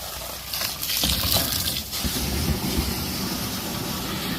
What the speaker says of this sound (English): So now that we have our Javex in here ready to get mixed, we're going to put our hose right in it.